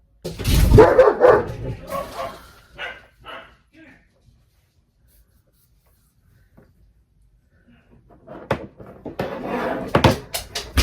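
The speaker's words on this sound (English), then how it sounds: "I'm so tired of this dog going in and out and in and out." A house dog barks and yips in loud, close bursts at the start, falls silent for several seconds, then barks and whines again near the end, with voices mixed in.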